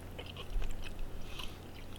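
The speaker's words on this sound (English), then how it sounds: "This is going to be voted grossest podcast in the world because it's just chew noises" Close, wet chewing of chewy fruit candy such as strawberry or green apple flavors, soft irregular mouth sounds with small crunches, no talking.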